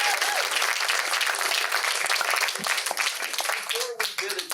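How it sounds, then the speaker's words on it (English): Loud, dense applause from an audience at a film premiere panel, sustained cheering and clapping with crowd voices and talk mixed in throughout. "Big round of applause."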